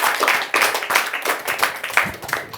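An audience at an evening club event claps, with bursts of applause rising and falling in quick rhythmic waves, fairly close and loud.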